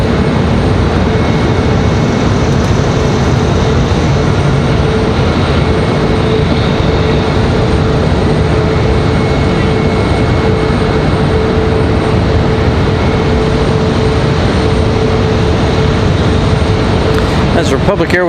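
A Republic Airways airliner arriving from Boston at Raleigh-Durham airport produces a loud, steady, broadband engine roar that holds continuously throughout.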